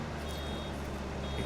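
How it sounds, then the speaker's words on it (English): A reversing vehicle in Farming Simulator 25 gives a steady electronic beep, a thin continuous tone held over a dense rumbling engine and machinery bed, moderately loud with no talking. "Hear that beeping noise, everyone?"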